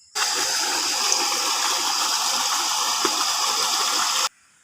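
Water gushes steadily and loudly from a pump that irrigates a dry village field of rice, with an even rushing flow for about four seconds before it cuts off abruptly.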